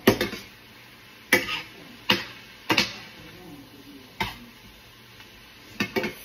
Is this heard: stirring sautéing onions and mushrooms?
yes